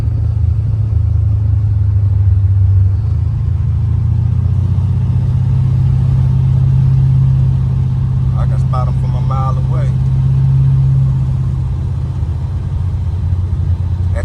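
A 1986 Buick Regal G-body with a big block engine and Holley EFI, heard from inside while driving: a steady, loud low rumble that holds nearly unchanged throughout, with a brief clatter of other noise partway through.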